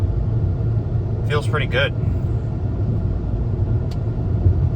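A Jeep Cherokee XJ drives along with a steady low engine and road rumble, shifting through its gears, while a voice briefly speaks over it.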